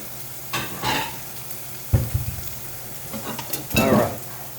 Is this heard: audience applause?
no